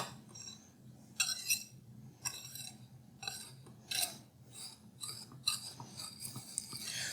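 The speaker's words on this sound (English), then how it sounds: "We're just going to give this a quick mix." Chocolate cream cheese batter with baking soda is mixed quickly in a too-small bowl, giving bursts of scraping and rasping from a utensil against the bowl, uneven strokes with short pauses, close and moderately loud.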